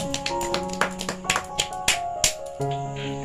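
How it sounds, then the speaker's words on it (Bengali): A small group claps along with a doll-play story game after a child finishes eating a biscuit, giving a handful of sharp taps over a steady bed of background music. "সবাই হাততালি বাজাও"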